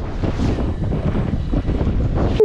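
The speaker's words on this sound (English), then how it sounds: "That wind is no joke." Strong, steady wind buffets the microphone while fishing up on a dam in cold weather, a loud, continuous low roar with gusty swells and no break throughout.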